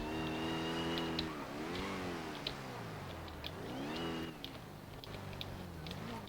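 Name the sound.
Porsche car engine during a chase in a video game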